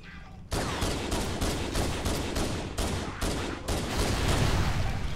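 Rapid pistol fire in Halo Anniversary Edition on Xbox One X, a quick string of close, sharp shots at a steady rhythm with game ambience underneath.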